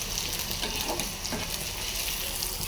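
Dried red chillies, garlic and onion sizzle in hot oil for tempering, a steady close crackling fry throughout.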